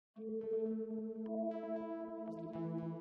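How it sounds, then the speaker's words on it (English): A dry synth pluck from a Haze Omnisphere bank plays with no effects, a quiet sequence of short bright tonal notes heard alone. "First sound I started off with was this pluck from a Haze Omnisphere bank."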